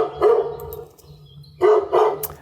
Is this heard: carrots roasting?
no